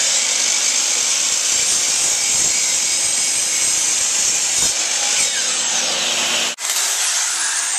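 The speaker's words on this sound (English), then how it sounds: "And now we're going to cut for the sides and continue our assembly." A power saw cuts wood for the side pieces of a headboard, a loud steady whine that runs unbroken for over six seconds before stopping abruptly, then a short spin-down tail.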